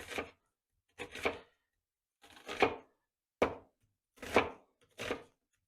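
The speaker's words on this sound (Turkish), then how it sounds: "Öncelikle bir adet soğanımızı şöyle keselim. Benim şöyle bir soğan zırhım var. Bunu arkadaşlar bu şekilde kesiyorum." A knife chops an onion held steady in an onion holder, giving six separate crisp chopping bursts at uneven intervals, close and clear, with no talking.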